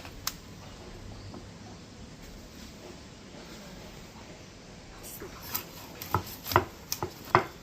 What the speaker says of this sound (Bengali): এবার মাছটা পিস পিস করে কেটে নেব।